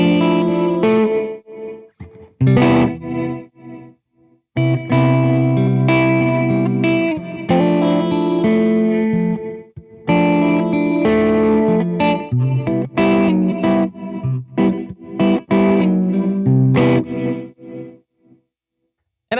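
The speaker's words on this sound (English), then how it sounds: "you can add tremolo just to the reverb signal, so it only affects the reverberations" An electric guitar played through a Champion Leccy Skitter pedal, with tremolo applied only to the reverb signal, rings out in loud chords and notes with pulsing, washy reverberant tails and brief gaps between phrases.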